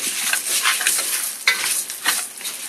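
Uncooked rice fries in a hot pan for Mexican rice, with a bright continuous sizzle and rhythmic scraping stirs that swell and fade, plus a couple of sharper utensil knocks, close and fairly loud.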